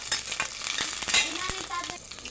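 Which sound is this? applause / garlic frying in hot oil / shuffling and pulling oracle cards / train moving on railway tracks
garlic frying in hot oil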